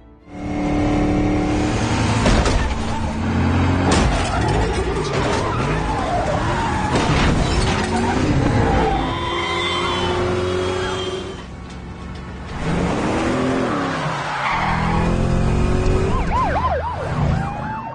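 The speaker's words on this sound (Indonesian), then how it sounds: "Jack berusaha untuk terus mendekat, walau tahu di belakang banyak mobil polisi yang mengejarnya." Car chase with many police cars in pursuit, loud and continuous, with wailing sirens rising and falling, engine roar and tire skids layered throughout, dipping briefly near the middle before surging again.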